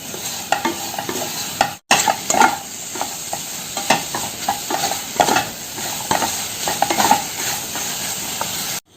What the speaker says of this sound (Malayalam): എന്നിട്ട് ഇത് നന്നായിട്ടൊന്ന് വഴറ്റിയെടുക്കണം